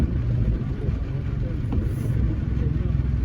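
A small Suzuki S-Presso car pushes through deep flood water during heavy rain, giving a steady low engine rumble mixed with water wash.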